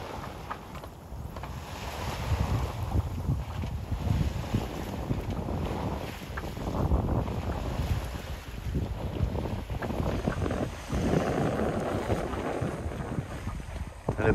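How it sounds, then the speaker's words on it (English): Wind at sea aboard a sailboat on the Atlantic approaching Porto Santo, Madeira: steady gusty buffeting across the microphone with the low wash of swell and water against the hull, continuous throughout with no talk. "Wind is up slightly."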